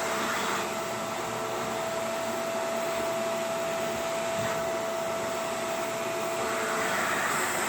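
A Shark Powered Lift-Away vacuum cleaner runs on couch upholstery, giving a steady, close, unbroken whooshing roar with a thin high whine throughout.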